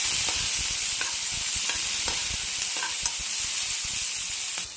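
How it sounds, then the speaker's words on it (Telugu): Peanuts, onions and green chillies frying with cumin in a pan for semiya upma, a steady broadband sizzle with repeated scraping clicks of stirring, close and loud with no talk. "ఇవి కొద్దిగా వేగిన తర్వాత పల్లీలు, ఉల్లిపాయలు, పచ్చిమిర్చిలు అయితే అన్నీ వేసుకొని వేగించుకోవాలి."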